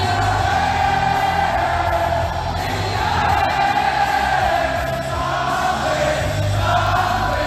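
A large arena crowd at a UFC event roars and cheers for a fighter's retirement walkout, a dense continuous wash of voices and yells filling the space.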